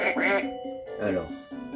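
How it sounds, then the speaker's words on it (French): Ducks quack in a Dora V.Smile video game, a few cartoonish calls at steady loudness with a game voice speaking over them. "Compte le nombre de canards qui font coin-coin."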